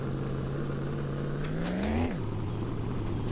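Car engine in My Winter Car, a worn-out vehicle with a suspected exhaust fault, droning steadily then surging in a brief burst of revs before dropping back to a lower hum, loud and close.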